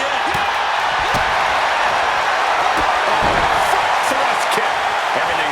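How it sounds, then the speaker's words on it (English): Dense, loud roar of an arena crowd cheering wildly in the WWE 2K26 wrestling game, a continuous wash of noise with scattered thuds and whoops. "The crowd is going absolutely crazy right now."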